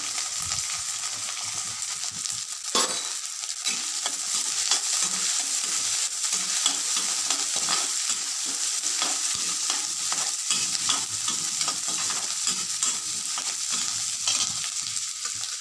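Urad dal and onion sautéing in hot oil in a pan for raw banana puttu, a steady bright sizzle with frequent scraping stirs, close and continuous with no talk.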